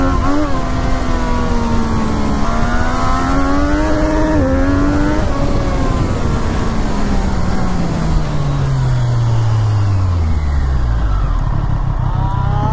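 A Triumph Street Triple RS motorcycle revs hard during wheelies, its engine pitch climbing in repeated surges and then sliding down in a long, loud falling whine, close and continuous.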